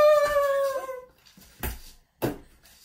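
A dog howls in a long, wavering, rising-then-falling tone lasting about a second, close and clear. Two short, sharp knocks or thumps follow in near silence.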